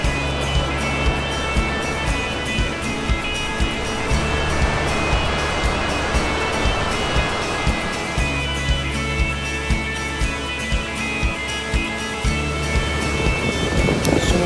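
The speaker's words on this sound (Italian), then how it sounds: "Siamo giunti alle cascate, alle Golden Waterfalls." Gullfoss, the Golden Falls waterfall in Iceland, roaring as a loud continuous broadband rush of falling water with wind buffeting the microphone, steady and close throughout.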